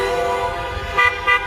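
A passing car sounds two short horn toots over steady traffic noise, close by and fairly loud, with no talking.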